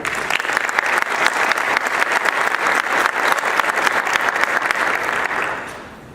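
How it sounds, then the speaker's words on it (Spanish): Sustained, dense applause fills a convention hall, loud and steady for about five seconds before tapering off at the end. "para los cuales yo quiero un fuerte aplauso."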